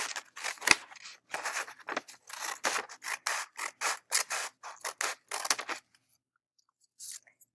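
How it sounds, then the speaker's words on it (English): Scissors cutting along a line in paper, a rapid run of crisp snipping and crunching strokes close by, then stopping into near silence before one last brief snip. "I'm just simply going to cut along this line right here"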